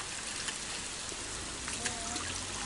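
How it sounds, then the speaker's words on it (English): Rain falling in a local park, a steady dense hiss of drops with scattered brighter patters, continuous and moderately loud throughout. "Here comes the rain."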